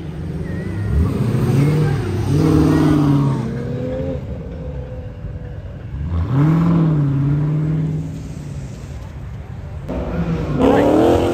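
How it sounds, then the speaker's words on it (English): A supercar leaving a Supercar Saturdays meet revs hard twice, each pass climbing and falling in pitch as it accelerates nearby, with a quieter lull between and a third surge starting at the end. "Someone else is coming that's been revving their engine."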